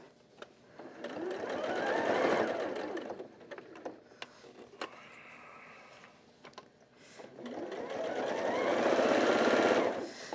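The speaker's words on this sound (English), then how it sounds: "So I'm just gonna sew it down all the way around." A sewing machine stitches a throw pillow in two long, loud runs of rapid mechanical chatter, with a quieter, slower stretch of intermittent stitching in between.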